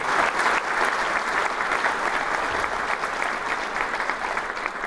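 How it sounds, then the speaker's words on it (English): An awards-ceremony audience gives a loud, sustained round of applause, dense even clapping from a large crowd filling the room throughout. "let's give the St. Paul Area Chamber just a round of applause for all of you"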